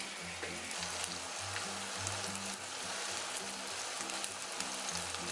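Curry chicken wings browning in a pan give a soft, steady sizzle and crackle like light rain, low in level, with faint pops scattered throughout and no voices.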